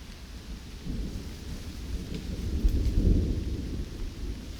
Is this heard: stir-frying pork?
no